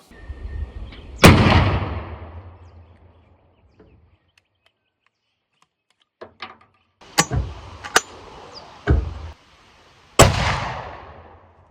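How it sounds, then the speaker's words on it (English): Side-by-side shotgun firing slugs at a 50-meter target, with loud close blasts that ring out and decay, spaced irregularly with quiet gaps between them, several sharp reports in the second half, no talking. "3 rounds out of the left barrel, 3 rounds out of the right barrel, just to show how this shotgun actually shoots"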